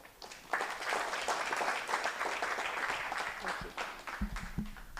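A workshop audience applauds in a hall, a dense sustained round of clapping that swells quickly and holds, thinning out near the end as a voice begins to talk.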